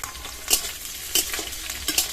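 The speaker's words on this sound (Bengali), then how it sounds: "এবার এর মধ্যে ভাজা চিংড়ি মাছগুলো দিয়ে দেবো।" Fried prawns are stirred into sizzling browned onions in a pan. A constant fry hiss is broken by several distinct scraping, clattering stirring strokes close by, with no speech.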